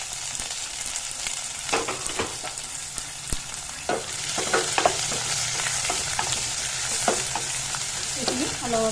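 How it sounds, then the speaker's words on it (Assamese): Onion, ginger and garlic paste fries in a pan with cloves, cardamom and cinnamon for chicken curry, a steady sizzle broken by repeated scraping stirs at close range. "এইখিনি অলপ ভাজি লওঁ ৰংখিনি হ'বলৈ দিম"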